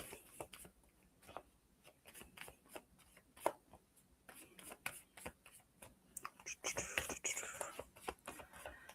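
Tarot cards are shuffled in quiet, repeated riffles and soft slaps, close and faint, with whispery rustling between bursts and louder card noise near the end.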